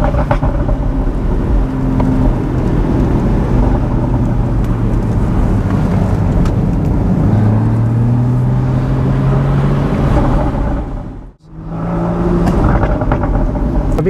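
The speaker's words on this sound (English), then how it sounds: "put the sports exhaust on so we can be heard" Porsche Boxster GTS 981 with 3.4-litre engine and sports exhaust driving on an Alpine road, a loud steady engine drone from inside with rising and falling revs and a brief sudden dropout near the end.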